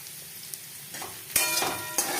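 Potatoes with salt and spices sizzle in a pan for aloo chochchori, with a soft frying hiss broken by a few scraping stirs of a spoon, close and fairly quiet with no talking.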